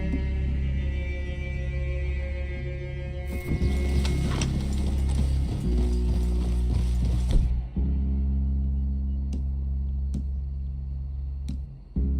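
Horses' hooves clop during a ride in Red Dead Redemption 2, layered with creaking tack and mechanical clicks; a burst of busier clatter mid-way, then a few sharp isolated knocks near the end, with no voices.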